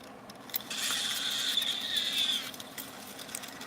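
A toy doll's mechanical crying mechanism runs for about two seconds as a faint, steady whirring tone with a ratchet-like buzz, starting and stopping abruptly in a quiet room, with no voices.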